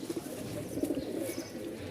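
Soft, low pigeon cooing repeats in a steady murmur against faint background noise.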